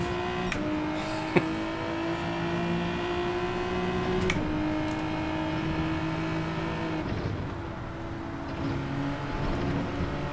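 Small Renault 5 racing car engine in Gran Turismo 7, a Group 3 race at Dragon Trail Seaside, holding a steady droning tone with gear-shift pitch steps around four and seven seconds, loud and continuous throughout.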